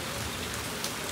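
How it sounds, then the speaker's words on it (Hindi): Heavy rain falling, a dense, steady hiss of drops pattering on surfaces, heard alone with no voices for about a second. "बारिश इतनी तेज आ रही है"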